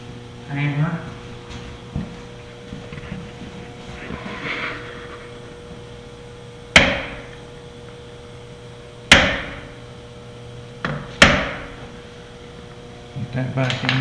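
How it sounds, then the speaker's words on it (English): Hammer blows ring out during a sheave and slug kit install on a Yamaha Viking, three or four sharp metallic strikes spaced a couple of seconds apart, with workshop sounds and someone talking between them. "And take your hammer"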